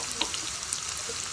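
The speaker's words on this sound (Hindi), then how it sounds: "अभी तड़का लगाते हैं।" Dal tempering sizzles in hot oil with ginger garlic paste and a large green chili, a steady close crackling hiss with small spits and pops throughout.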